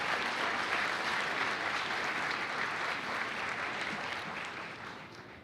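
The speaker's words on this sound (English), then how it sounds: "Let's give these Governor's Merit Scholarship Award winners a round of applause." A high school senior honors night audience in Louisville applauds scholarship winners with steady, dense clapping from a room full of people, fairly soft and even, tapering slightly at the end.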